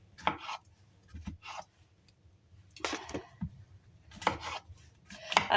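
A knife quartering vegetables on a board for a chicken and lentil curry, a few separate chopping bursts with pauses between them, close and alone without talk.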